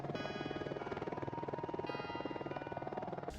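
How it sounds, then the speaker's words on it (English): The rotor blades of an AH-64D Apache helicopter thump in a steady, rapid rhythmic beat, a continuous moderately loud chopping throb with no speech over it. "the classic helicopter sound that you hear in all the movies"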